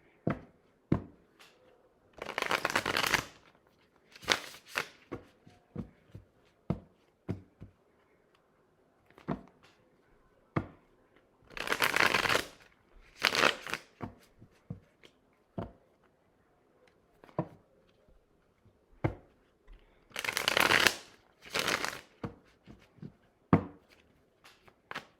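Tarot cards are shuffled in several short riffling bursts, separated by soft taps and handling clicks, close but quiet.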